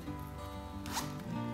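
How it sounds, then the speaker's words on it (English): A zipper on the back of a small wallet that comes with a diaper bag is pulled open in one quick rasping zip, close and clear over a steady low background hum. "and it has a zipper on the back"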